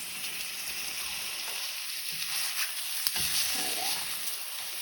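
Food fries in a pan with a steady, fairly loud sizzle and hiss close by, plus a few faint clinks and scrapes, with no talk.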